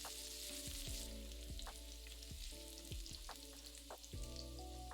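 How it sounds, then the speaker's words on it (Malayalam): Chopped garlic and ginger frying in hot oil with mustard seeds, a soft steady sizzle with crackles and a spoon scraping and stirring the pan in repeated strokes, no voices. "അതിലേക്ക് 4 വെളുത്തുള്ളി അല്ലി ചെറുതായിട്ട് അരിഞ്ഞത്, ഒരു ചെറിയ കഷ്ണം ഇഞ്ചി ചെറുതായിട്ട് അരിഞ്ഞത്, ഇത് രണ്ടും കൂടി ഇട്ട് 1 മിനിറ്റ് മൂപ്പിക്കുക."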